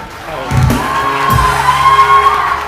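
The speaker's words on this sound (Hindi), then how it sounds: "एंड ऑफ कोर्स बहुत सारी तालियां" Studio audience on a Pakistani TV morning show breaks into applause and whooping cheers, a crowd swell with shouts rising over steady background music and filling the room.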